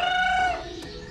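A single rooster crows nearby, one loud drawn-out call that trails off into quieter background with no talking.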